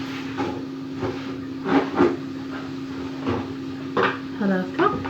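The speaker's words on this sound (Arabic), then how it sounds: "غنبقى نحرك فيهم" Onions and garlic stirred in oil in a pan: a steady faint sizzle runs throughout, broken by several scraping knocks of the utensil against the pan, with a steady hum beneath.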